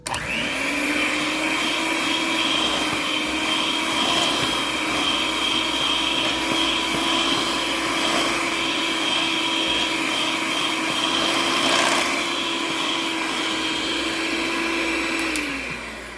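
A brand-new electric mixer beating chocolate chip cookie dough, a loud, steady motor whine with a constant hum that runs without a break and winds down at the end, no talking.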